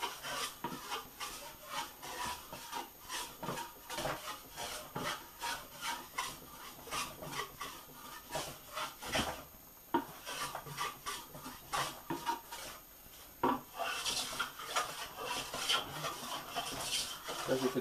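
A modified Silverline No. 5 scrub plane taking repeated diagonal passes across a board held in a vise, a rapid series of rough, rasping wood-shaving strokes, close and steady with brief gaps.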